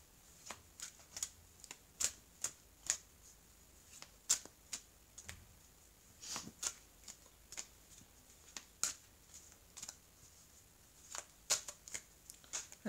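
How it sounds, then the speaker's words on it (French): Someone shuffles and cuts a deck of oracle cards. Crisp card flicks and riffles come in steady bursts, close and clear, with no talking. "Alors je vais étaler les cartes, je vais couper, étaler les cartes."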